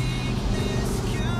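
An Audi R8 sports car engine gives a loud, continuous roar close by, a dense rumble that holds steady through the short moment with no pause.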